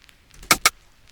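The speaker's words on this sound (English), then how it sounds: "the next thing I added is this stick sound." A stick percussion sample in an Afrobeats beat gives a quick pair of crisp, clicky wooden hits close together. They are fairly loud over near silence, with no talking.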